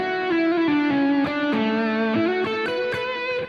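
A distorted electric guitar plays a traditional shred lead tone, a sustained gliding melodic line of bent and sliding notes with thick, saturated overdrive, loud and steady, with no talk.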